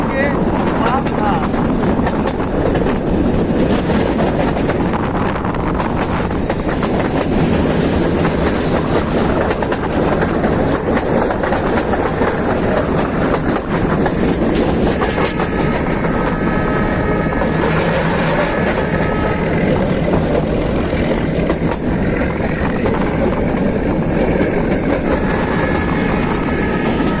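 A meter gauge passenger train runs between Bahraich and Mailani through dense forest, giving a loud, continuous rumble with rattling carriages and clickety-clack that never lets up across the whole stretch.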